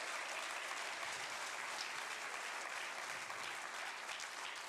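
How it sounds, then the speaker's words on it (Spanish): Congregation clapping steadily throughout a church service, a dense, sustained wall of applause with no voices on top, fairly quiet and even from start to finish. "Denle un aplauso más fuerte al Señor"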